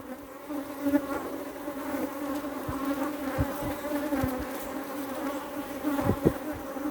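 Honeybees swarm heavily around a brood frame pulled from the hive, a dense steady buzz with a constant drone and occasional louder passes of single bees near the microphone, no talking.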